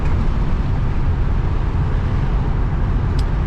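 Interior of a 1979 Pontiac Trans Am 10th Anniversary cruising at 55 mph, a loud, constant low engine and road drone with steady rumble and no talking.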